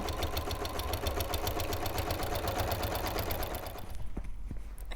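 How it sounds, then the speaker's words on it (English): A sewing machine stitches binding around the edge of a quilt, a rapid even mechanical rattle close by that runs for about four seconds and then stops, leaving faint clicks. "I've almost sewn all the way around this quilt now"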